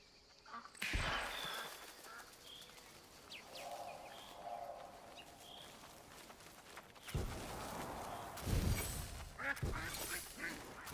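A duck in the Soulframe video game quacks in a few short, nasal calls close by, set against a quiet ambient game background with soft scattered sounds.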